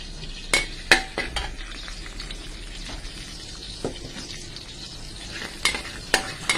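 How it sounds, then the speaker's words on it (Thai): Eggplant and chilies stir-fried in a pan, giving a continuous sizzle broken by sharp scraping and clinking strikes of a utensil against the pan, some in quick pairs, with no talking. "แค่นี้ผัดมะเขือพริกลงไปคั่วให้หอมค่ะ"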